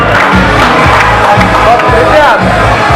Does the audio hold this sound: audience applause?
yes